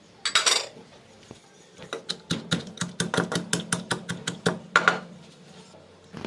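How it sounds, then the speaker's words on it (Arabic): Garlic, pepper, salt, cumin and coriander being pounded in an old-style wooden mortar: a quick, steady run of close, sharp thuds, mostly evenly spaced, with no voices. "هننزل بالثوم والفلفل والملح والكمون والكزبرة ونفرمهم فرم تمام"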